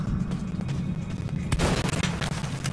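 Gunfire in Metro 2033 Redux, a rapid rattle of shots over a low rumbling background, building to a heavier booming burst midway with more scattered shots after.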